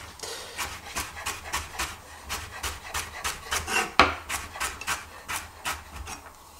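A knife chopping a carrot on a board for a mirepoix, about twenty quick rhythmic cuts with slight scraping, close and clear.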